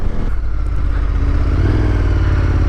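A motorcycle engine drones steadily and loudly at close range while the bike climbs a mountainside road, with rough low-pitched pulsing and a slight shift in pitch partway through.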